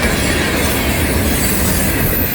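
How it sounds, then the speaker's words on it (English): FEC rock freight train passing close by, a loud continuous roar of wagons and wheels on the rails with a steady broadband rush, no voices. "Rock train."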